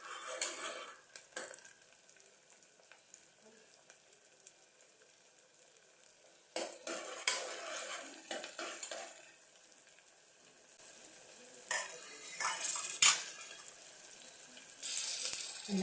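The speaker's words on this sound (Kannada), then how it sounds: "ಚೆನ್ನಾಗಿ ಎಣ್ಣೆಯಲ್ಲಿ ಫ್ರೈ ಆಗಬೇಕು." Vegetables and fresh green peas fry in oil with a steady hissing sizzle, close up, rising and falling as they are stirred, with occasional utensil clinks.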